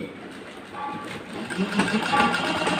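A sewing machine stitches a blouse with a rhythmic mechanical whirr that builds and steadies, partly under a voice talking nearby.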